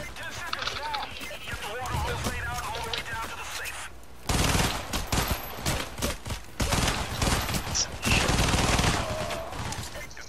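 Rapid automatic gunfire from the video game Payday: The Heist during a poolside barbecue heist level, dense volleys of shots with brief gaps, loud and continuous, with some voices talking faintly in the mix.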